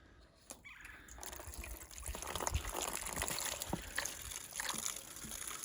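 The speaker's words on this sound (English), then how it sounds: "I only need to get a fractional percentage of a trickle of clean water filling this bucket" A small trickle of filtered clean water runs into a bucket on a farm, a continuous gentle splashing and gurgling with soft irregular drips.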